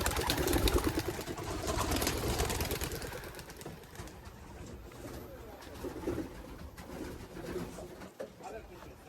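Racing pigeons in a loft cooing, soft repeated coos and wing flutters fairly close, louder at first then quieter and steady, with someone talking at times.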